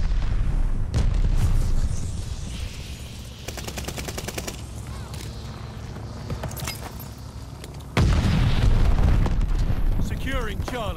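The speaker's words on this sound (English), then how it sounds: "Throwing grenade." Grenade blast in the first-person shooter Call of Duty: Vanguard, a loud low boom that opens the moment and another heavy burst later on, with rapid gunfire and battlefield clatter filling the gaps and a voice talking over it.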